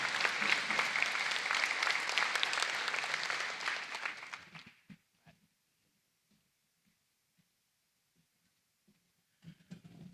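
A crowd at a casino signing ceremony gives a loud, dense round of applause that lasts about five seconds, then dies away to scattered faint sounds, with a few soft noises near the end.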